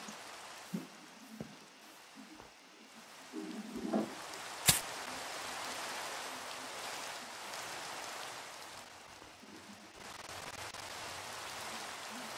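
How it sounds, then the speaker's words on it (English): Steady Minecraft rain hisses as a broad, even wash throughout, with a few soft footstep-like knocks and one sharp click partway through, no voices. "Yes, raining."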